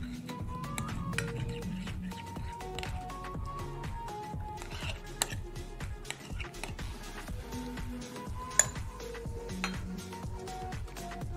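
Cream being stirred into an American-style fruit salad in a bowl, with irregular soft spoon clinks and scrapes against the dish, scattered sharper taps, and a voice speaking over it.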